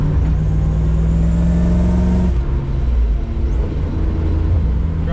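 Supercharged Toyota Supra accelerating hard, a loud close engine drone climbing in pitch before a brief dip at a gear change, then pulling again with steady mechanical roar.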